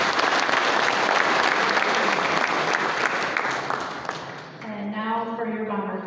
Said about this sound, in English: If you would give them all a round of applause.